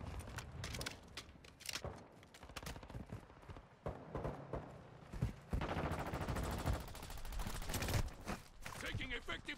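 Rapid bursts of M16 rifle fire in Warzone 2 crackle in quick sequences, with dense automatic volleys toward the end, mixed with game sounds and someone talking over them.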